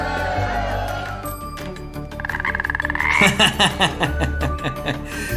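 Cartoonish frog croaking in the Wonderbox video game: a loud rapid rattling croak followed by a run of rhythmic, pulsing croaks, close and clear over quiet game music.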